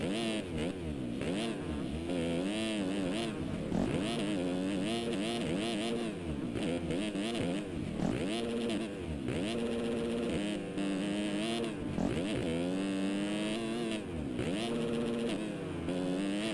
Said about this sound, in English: listen to those bikes rev up